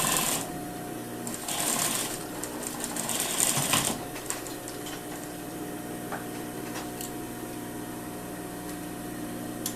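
A sewing machine stitches a lined jacket seam at a 1 cm allowance, its rapid mechanical chatter loud in short bursts early on, then settling into quieter, intermittent ticking and handling noises.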